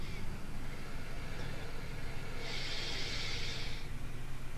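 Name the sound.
deep breath in during a breathing exercise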